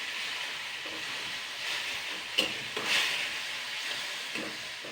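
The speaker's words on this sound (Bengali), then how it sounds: "হাফ কাপ জল দিয়ে দিলাম" Kanai greens frying in a pan as half a cup of water is poured in, giving a steady, bright sizzling hiss with a few sharper spits and bubbling bursts, close and continuous.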